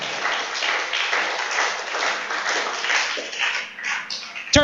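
Church congregation applauding together, a dense, continuous patter of clapping at moderate volume, easing slightly toward the end before a sharp closing knock.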